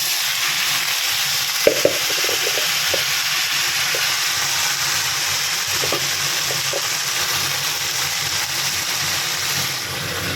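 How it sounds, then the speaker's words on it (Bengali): Cauliflower and potato fry in hot oil in a pan with a loud, dense and steady hiss, with a few brief clinks and knocks scattered over the first seconds. "তেল গরম হয়ে গেছে, এই কপি আর আলুটা দিয়ে দিলাম।"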